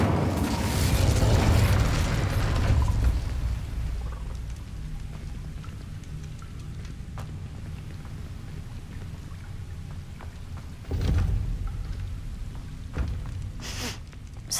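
The Incendio fire spell is cast in Hogwarts Legacy. A loud roaring, crackling burst of flame comes first and then settles into a steady, softer crackle, with a second flare near the end.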